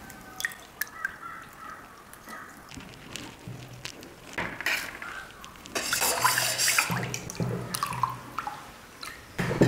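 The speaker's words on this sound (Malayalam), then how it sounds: "നമ്മളിത് പിഴിഞ്ഞ് ഈ നീര് ഇതിനകത്തേക്ക്" Freshly squeezed lemon juice drips and trickles into a container in irregular, quiet, close drops and small splashes, with a slightly busier patch of liquid noise midway; no talking.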